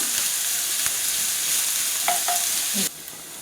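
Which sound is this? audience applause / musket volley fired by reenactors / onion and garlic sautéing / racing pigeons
onion and garlic sautéing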